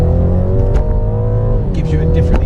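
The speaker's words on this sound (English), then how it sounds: "gives you a different exhaust note, gives you a massive amount of power" A BMW 330e M Sport plug-in hybrid in sport mode accelerates with a steady engine and exhaust drone that rises slightly in pitch, heard from inside the car under a voice.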